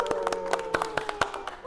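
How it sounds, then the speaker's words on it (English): Clapping from a small group, a scattered run of handclaps at close range over a steady background hum. "A big round of applause for everybody."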